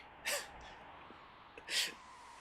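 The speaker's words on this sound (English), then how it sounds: "We got sneezed on by a Chupon with coronavirus, and now the world is ruined." Chupon, a creature in the video game Final Fantasy VI, sneezing: two short, airy bursts about a second and a half apart, the second louder, over a faint background hum.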